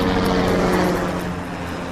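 A helicopter, the Cougar 91, flies in a dramatized air disaster reenactment, its engine and rotor making a loud, continuous, dense drone throughout.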